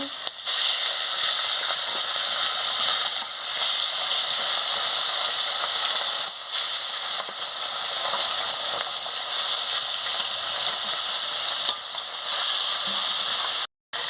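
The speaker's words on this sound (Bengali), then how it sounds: "গরম হয়ে গেছে মাছগুলো এক এক করে ছেড়ে দিচ্ছি" Pieces of rohu fish frying one by one in hot oil in a kadai, giving a loud, steady broadband sizzle and hiss that runs almost without pause, with a brief cutout near the end.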